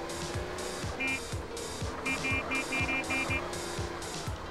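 A Cheetah sports car driven in GTA San Andreas, its engine revving in repeated rises and drops, with intermittent beeping tones layered over the steady motor.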